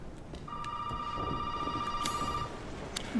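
A telephone ringing in the video game Resident Evil 7: one sustained electronic ring tone held for about two seconds, fairly faint over a dark ambient background with a few soft clicks.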